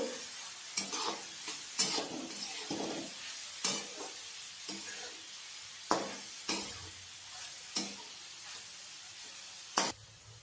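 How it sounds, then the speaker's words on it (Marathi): Onion sautés in a pan for a Marathi leftover-chapati churma, a soft steady sizzle broken by about a dozen crisp scraping stirs spaced a second or so apart, close and without voices. "बघा, आपला कांदा आता छान परतलेला आहे।"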